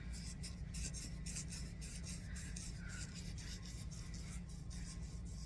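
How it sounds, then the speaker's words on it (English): Close, continuous rasping of sandpaper rubbed back and forth over soapstone in quick, regular strokes, with no voices. "So I'm sanding like that. I'm just curving the sandpaper over the little tentacle"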